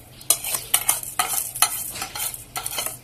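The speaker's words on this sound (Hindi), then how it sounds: "मिक्स कर लेंगे इसी तरह ताकि अच्छी तरह इसके अंदर घुल जाए" Sugar, about a cup, is stirred into homemade tomato ketchup heating over a flame, giving a series of close, irregular scraping strokes of a spoon against the pan with a faint sizzle beneath.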